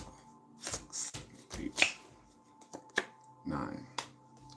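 Playing cards are shuffled without looking in a quiet ASMR setting, giving soft, close riffling bursts and crisp snaps at irregular intervals.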